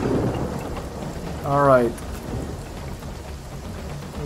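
Rain and thunder conjured by a spell in the fantasy role-playing game Divinity: Original Sin, a steady hiss of falling rain under a low rolling rumble, with someone briefly speaking partway through.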